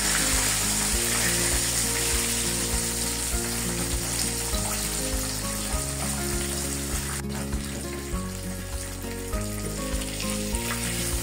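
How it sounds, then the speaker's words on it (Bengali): Chicken pieces coated with naga chilli fry in oil over medium heat, giving a continuous close sizzle with bubbling crackle and a few light stirring knocks, no voices present. "তো একটু ধৈর্য সহকারে এটা মিডিয়াম হিটে ভাজতে হবে।"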